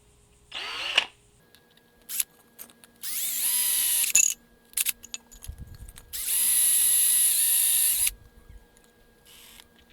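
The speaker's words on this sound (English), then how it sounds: "Maybe I'll drill 2, maybe 3, and then cut between them." A power drill boring holes into a T-Fal One Egg Wonder frying pan, with two long whining bursts and several short spins and stops, close and loud against a quiet background.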